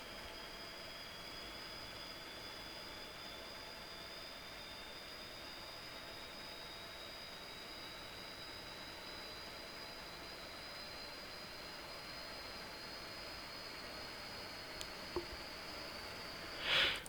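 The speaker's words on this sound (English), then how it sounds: "And we'll start engine 1." A Q400 turboprop's number one engine spooling up in a flight simulator, a steady droning whine with a high tonal hum that holds level throughout, ending in a brief louder burst; no talk.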